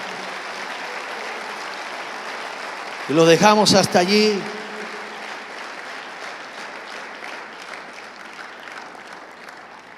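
A church congregation applauds in worship, dense sustained clapping throughout, with a preacher's voice speaking briefly over it partway through.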